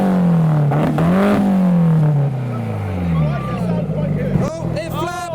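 Toyota MR2 dressed as a Lamborghini Murcielago replica revving its engine, a loud rising and falling drone with one swelling rev, while people talk over it.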